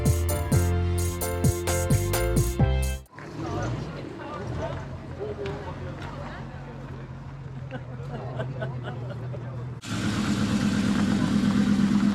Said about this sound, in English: Another VW camper joining the party.